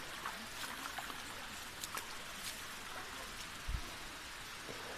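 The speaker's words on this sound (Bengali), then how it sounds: "এই ঝর্ণার পানির আওয়াজ শুনতে পাচ্ছি কিন্তু।" Rushing water from Khoiyachora waterfall in Bangladesh forms a faint, steady hiss at a distance, with a few small splashes and no talking.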